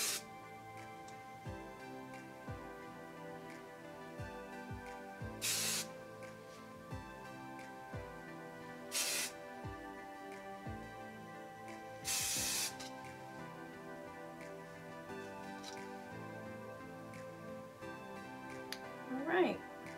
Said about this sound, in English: Final step is I use a hard hold hairspray, just to hold everything down.